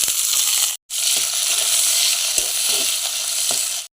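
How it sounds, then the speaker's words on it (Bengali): Onion and dried shutki fish fry in a pan with a loud, continuous sizzle. The sizzle cuts out for a moment and returns, with scattered stirring clicks over it. "রেসিপিটা বানাবার জন্য প্রথমে পেঁয়াজ দিলাম, দিয়ে রাখা শুকটি মাছ দিয়ে দেব,"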